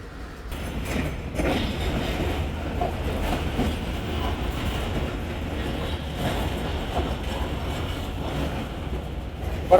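Rehman Express rolling along the tracks on the outskirts of Hyderabad, heard from inside the carriage: a continuous loud rumble with faint rhythmic clatter of wheels, steady throughout and without voices.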